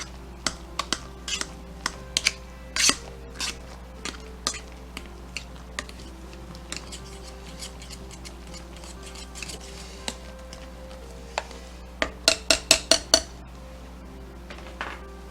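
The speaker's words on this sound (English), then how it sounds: "Smash this, get it all mixed in again." A masher working cooked potatoes and milk in a pot for creamy ham and cheese mashed potatoes, producing scattered sharp clicks and taps with a quick burst of knocks near the end.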